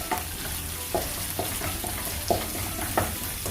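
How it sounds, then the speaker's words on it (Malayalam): Curry leaves and green chilies fry in coconut oil for a Kerala-style chicken fry, giving a continuous loud sizzle broken by several sharp stirring scrapes against the pan. "ഇത് നമുക്കൊന്ന് ചെറുതായിട്ടൊന്ന് ചൂടാക്കിയിട്ട് ഒന്ന് വറുത്ത് കോരാം."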